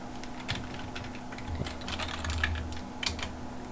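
Steady light clatter of computer keyboard keys being typed on at a desk while coding, quick irregular taps throughout with a faint hum underneath and no voice.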